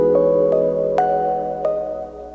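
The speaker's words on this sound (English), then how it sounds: "And here's my second chord." A sustained lo-fi hip hop chord, the second of a back-and-forth progression, rings as steady layered tones with soft note attacks at regular intervals, played alone with no talk.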